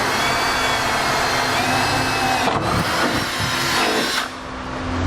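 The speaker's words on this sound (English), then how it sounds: "we're going to drill a small pilot hole through that small hole right there in the middle of the locator" A power drill boring a small pilot hole through the steel bed of a 2010 Ford F-series pickup for a Curt underbed gooseneck hitch, a steady close whine with shifts in load partway through and a slight drop near the end.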